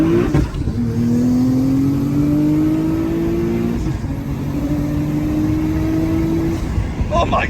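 A car accelerating on low boost, its engine note climbing steadily in two long pulls with a brief dip between, loud and close from inside the cabin.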